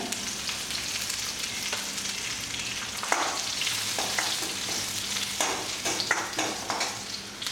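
Onion frying in oil with garlic and curry leaves for lemon rasam: a steady crackling sizzle with intermittent sharper pops and stirring scrapes, moderately loud and close, no voices.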